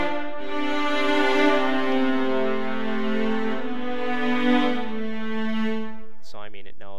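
A sustained synth note played hard on a MIDI keyboard controller in FL Studio 10, a rich steady harmonic tone lasting several seconds before a brief, different tonal figure at the very end.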